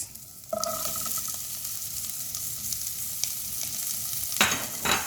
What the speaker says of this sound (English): now we'll add the chopped onions